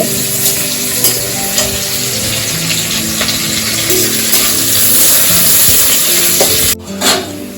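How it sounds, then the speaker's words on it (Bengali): Onions and chopped green chillies sizzle steadily in hot oil while a spatula stirs and scrapes the pan, a loud continuous frying hiss with intermittent clatter and a brief break near the end. "পেঁয়াজটা একটু হালকা নেড়ে নেবে।"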